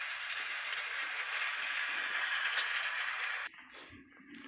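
A freight train rake of railway wagons rolls through a limestone loading siding near Jaisalmer with a steady, moderately distant rumble and hiss that drops away abruptly near the end.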